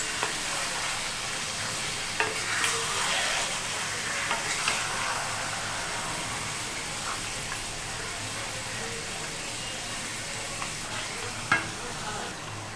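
Mutton curry with spices is stirred in a pan, giving a steady low sizzle under repeated scraping and the occasional clack of a spoon against the pan, with no talking.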